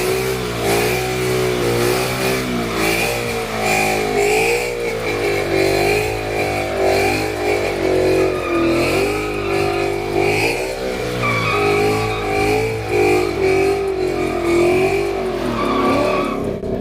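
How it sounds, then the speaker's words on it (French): Ford Mustang of nearly 500 hp doing a burnout on old tires, engine revving hard in repeated surging waves with screeching tire squeal, loud and close throughout. "il faut faire fumer les anciens pneus"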